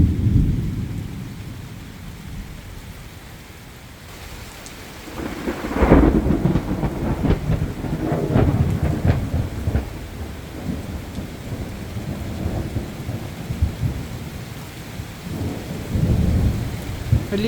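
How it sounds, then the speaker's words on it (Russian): Heavy downpour drums on a forest by Lake Peipus, a dense close roar of rain with rolling thunder swelling in around the middle and again near the end, no voices. "Ливневый как бы дождь."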